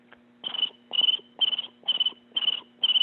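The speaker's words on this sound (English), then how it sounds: "crickets in an empty room" Crickets chirping in a steady rhythm, six evenly spaced bursts of high trilling against an otherwise quiet background.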